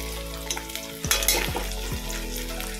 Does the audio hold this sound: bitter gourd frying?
yes